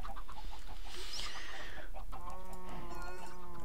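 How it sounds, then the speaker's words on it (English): Minecraft chickens clucking in a cluster of short calls, with a sustained crow-like tone near the end, heard close against constant game background noise. "the silly chicken got in the way"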